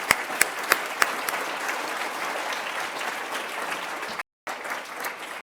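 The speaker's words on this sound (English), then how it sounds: "A round of applause for them as well," An audience applauds at the close of a Toronto mayoral debate in 2018, steady dense clapping filling the room for several seconds before cutting off abruptly, with a few sharp individual claps near the start.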